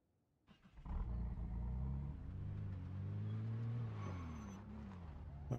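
A car engine in Project Zomboid cranks into life and settles into a steady, low idling hum, with the pitch climbing briefly as it revs before easing back.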